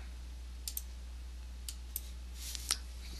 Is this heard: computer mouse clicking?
yes